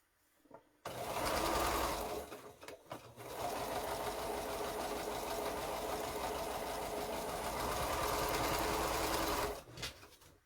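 Quilting sewalong: a domestic sewing machine stitches fabric in steady, continuous runs, starting after a short pause, briefly stopping near the three-second mark, then whirring on close and loud until it halts near the end.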